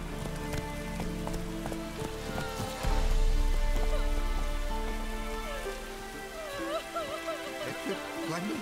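Steady rain patters on surfaces nearby, swelling briefly heavier midway, with faint voices murmuring in the background.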